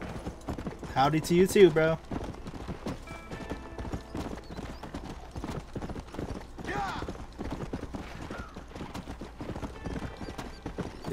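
Horse hooves clip-clop steadily at a gallop in Red Dead Redemption, with a brief loud whinny near the start and a short spoken line over the hoofbeats.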